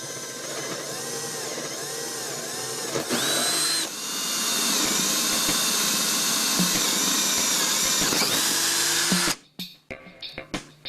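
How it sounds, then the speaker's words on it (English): Power drill with a 7/16 inch bit whining loudly and continuously as it bores holes into a mounting surface for a battery box, pitch shifting under load, then stopping abruptly with a few clatters. "Drill holes into the mounting surface through the holes of the battery box base."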